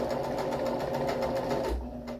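Sewing machine stitching fringe onto a cushion cover, a steady close whirring run that slows and stops near the end, heard alone.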